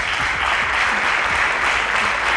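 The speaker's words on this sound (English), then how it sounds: "A round of applause." Studio audience at a Nigerian school quiz show applauds a correct answer, a steady, dense wash of clapping held at even loudness throughout.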